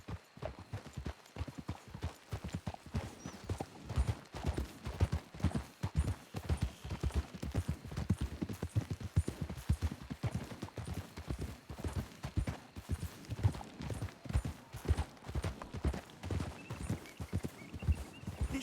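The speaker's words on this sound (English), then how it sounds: "We should leave the horses." Horses' hooves clip-clop steadily in the video game Red Dead Redemption 2, a continuous rhythmic walking gait of several horses with occasional snorts, moderately loud and close, with no talking.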